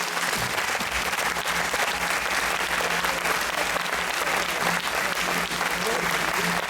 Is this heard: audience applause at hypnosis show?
yes